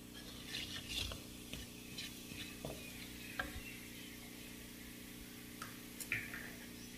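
Cumin seeds, about a teaspoon, sizzle in hot oil in a pan for a mixed vegetable dish, a soft steady crackle broken by occasional clicks and taps of stirring, with no voices.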